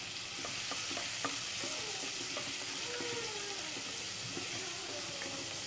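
Onions and garlic frying in a pan for palak chicken, a steady soft sizzle under scattered scraping strokes of a stirring utensil, close and low in level with no talk.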